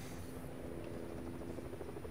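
Steady rotor drone of a helicopter in Fortnite, faint and continuous with a low rumbling hum that holds throughout with no talk over it.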